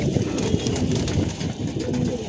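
Pigeons cooing in a crowded rooftop loft on a windy day, a dense continuous chorus of low burbling coos, close and steady, with wind noise behind.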